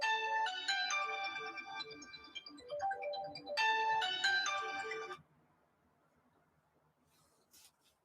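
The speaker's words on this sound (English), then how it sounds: "Stop ringing my phone." A phone ringtone plays a bright repeating melody twice, fairly loud, then cuts off into near silence with a faint click at the end.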